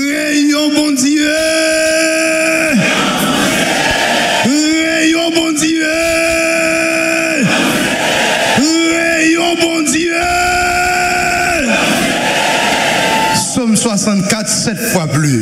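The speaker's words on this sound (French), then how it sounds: "Aidez-moi à crier ça ensemble" A church congregation shouts together at a Haitian French-language service, loud sustained massed voices rising and falling in repeated swells of about two seconds each.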